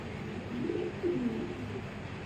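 A pedigree racing pigeon coos softly in a few low, rolling notes over a faint steady background hiss, with no talking.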